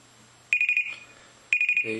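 The timer alarm on a PIC microcontroller project goes off in two loud electronic beeping bursts about a second apart, each a rapid series of shrill tones, heard close and alone.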